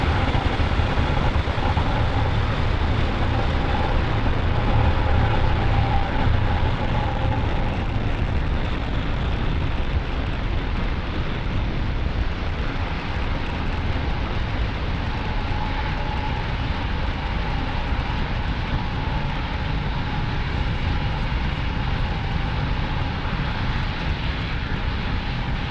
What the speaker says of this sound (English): Falcon 9 successfully lifting off from Pad 40 at the Cape Canaveral Space Force Station